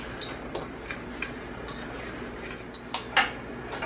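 Smoked paprika, garlic powder, onion powder, turmeric and salt whisked together in a bowl, a run of light rhythmic metal clinks and taps close by, ending in a sharper knock.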